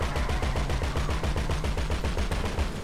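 A rapid automatic burst of gunfire from a GTA V firefight keeps up a fast, even rhythm of sharp shots throughout, loud and continuous.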